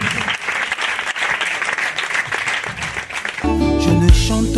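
A church congregation claps in dense sustained applause, close and lively, before music with sustained keyboard-like tones swells in under the clapping.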